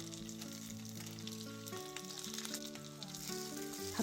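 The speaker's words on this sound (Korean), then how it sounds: "약불로 익혀주세요" Korean jeon pancakes fry gently over low heat in a pan for a holiday platter of assorted jeon, giving a steady soft sizzle under louder background music.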